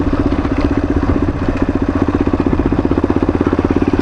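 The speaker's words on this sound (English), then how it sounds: "you can see mostly the bike is idling" A motorcycle engine idles on a dirt road with a steady, loud, rapid pulsing throb and slight mechanical clatter, heard close and alone throughout.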